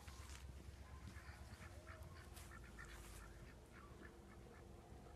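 Several ducks quacking at a distance in an outdoor setting, short repeated calls scattered over a steady low background rumble, with no talk.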